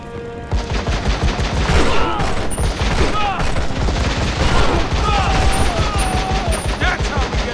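Dense, sustained gunfire from a PSP action strategy game ambush, rapid bursts and shots rattling continuously for the whole stretch with occasional booms, shouted voices and game speech mixed in.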